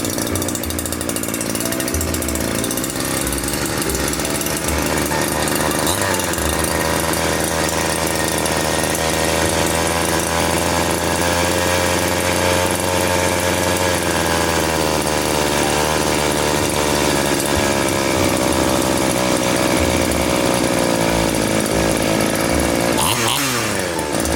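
A small engine fitted with a Mikuni carburetor runs on a test bench after being rebuilt, a loud, steady buzzing drone throughout with slight shifts in pitch and no talk.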